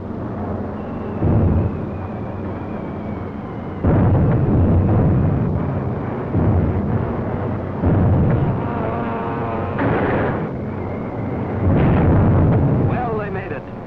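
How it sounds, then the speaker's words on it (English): Wartime film battle scene of 600-pound TNT bombs bursting on an aircraft carrier, a series of loud booming blasts and rumbling roars in repeated surges, with a narrator's voice over the din. "Hits with those 600-pounders of TNT blowing up right in Hirohito's face"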